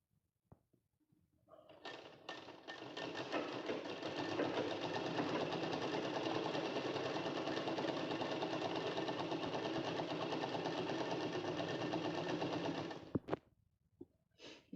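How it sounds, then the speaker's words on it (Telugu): A sewing machine stitches cloth for a long frock in one steady, continuous whir lasting about eleven seconds, with a few faint clicks before it starts and after it stops. "జాగ్రత్తగా అయితే స్టిచ్ చేసుకోవాలి."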